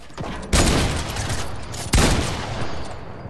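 Sniper rifle shots in a video game: two loud, booming blasts about a second and a half apart, each trailing off in a long rumbling echo.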